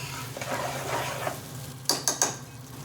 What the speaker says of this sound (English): So you need the oil to toast all the rice.